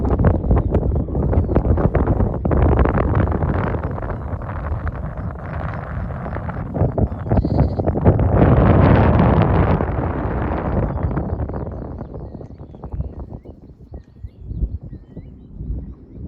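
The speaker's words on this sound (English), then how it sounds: "the wind has picked up a little bit, but that's just because it's so open up here" Strong wind buffets the microphone on exposed open moorland at a high, open crash site: a loud, continuous roaring rush that swells and eases in gusts, with no talking.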